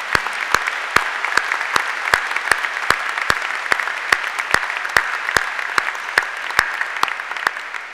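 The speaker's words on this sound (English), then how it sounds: "give a warm round of applause to the council" A graduation ceremony audience at the University of Dundee gives a round of applause for the city council, steady clapping with sharp individual claps standing out, loud and alone with no talk.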